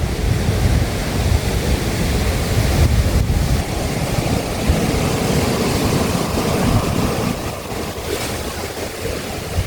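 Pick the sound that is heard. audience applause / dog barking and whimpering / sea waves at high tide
sea waves at high tide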